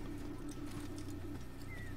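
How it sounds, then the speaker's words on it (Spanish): Horse hooves clip-clop in the Assassin's Creed video game, a steady rhythmic trotting under constant background game ambience, with faint bird calls, moderately quiet and without talk. "Corre, corre, caballito."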